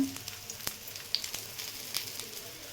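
Kothimbir vade, Maharashtrian coriander fritters, shallow frying on a tawa over a low flame, giving a quiet, steady sizzle close by with scattered small pops and crackles.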